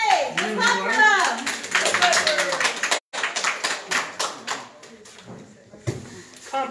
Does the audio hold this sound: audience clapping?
yes